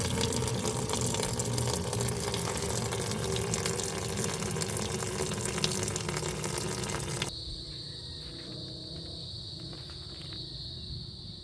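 Flushing water drains from a Honda car radiator, gushing and splashing steadily for several seconds, then cuts to a quieter, thinner trickle with a faint whine.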